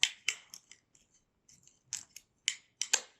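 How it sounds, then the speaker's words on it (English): Ratcheting clippers snip through a turkey leg bone in a series of sharp, close crunching cuts, several clusters of clicks and snaps separated by brief pauses, with no talking. "I like a handy dandy, easy cut ratcheting clippers"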